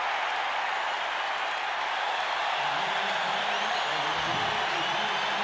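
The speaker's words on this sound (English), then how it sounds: "there are a goodly number of Bears fans applauding that touchdown here in Tampa" Bears fans in the stadium crowd in Tampa cheering and applauding a touchdown at a 1985 Chicago Bears vs Tampa Bay Buccaneers game, a steady distant roar of applause that stays constant throughout, with faint announcer talk beneath it.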